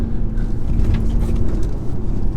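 A 2021 Audi SQ5 diesel pulls hard through third and fourth gear, its deep engine drone steady and loud from inside the cabin, with a sustained low hum and road rumble.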